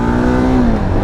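A 2025 Yezdi Adventure motorcycle engine drones loud and close as it accelerates through the gears, with a steady tone that dips slightly in pitch near the end of a very short burst.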